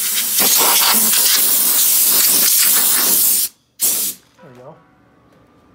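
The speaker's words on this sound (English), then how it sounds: "Okay, I got the compressor." Compressed air from a compressor blasts dust off a shop floor beside a fabricated car dash, a loud, steady hiss running about three and a half seconds, cutting out, then a second short burst, followed by brief talk.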